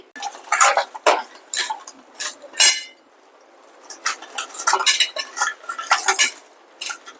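Small crabs clatter into a cooking pan for a crab curry, a series of sharp clinks and scraping knocks up close, coming in irregular bursts with a short quiet gap midway.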